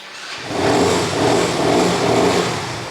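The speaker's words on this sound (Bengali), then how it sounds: "গাড়িটা আমি সেলফ স্টার্ট দিয়ে দেখানোর চেষ্টা করি" A used motorcycle in fresh condition starts on its electric self-start after a brief silence, then idles with a steady, smooth, fairly loud engine drone, no voices heard.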